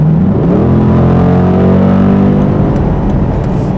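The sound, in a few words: 2008 Dodge Challenger accelerating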